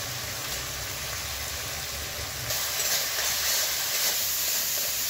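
Spice masala of salt, turmeric, coriander powder and chili powder fries in oil with a continuous, fairly loud sizzling hiss that swells slightly halfway through.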